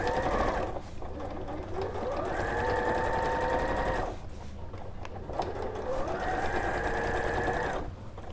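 A sewing machine stitches fabric in two long steady runs of close, rapid whirring, separated by a short pause, with no voices heard.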